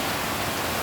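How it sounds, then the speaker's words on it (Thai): Heavy rain falls steadily on newly planted trees, a dense, even hiss of water that fills the whole moment without a break or any voices. "ฝนตกทุกวันค่ะพอดีกับต้นไม้ที่ปลูกใหม่ค่ะ"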